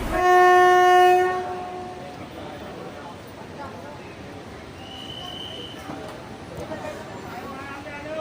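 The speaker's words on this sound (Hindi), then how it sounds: "हमारी ट्रेन शार्प 11:35 पर नजीबाबाद के प्लेटफॉर्म नंबर 4 से डिपार्ट हो रही है" Passenger train departing a platform at Najibabad station opens with a loud sustained horn blast, then settles into rolling rail noise and clatter as it pulls away, with a voice heard talking over it.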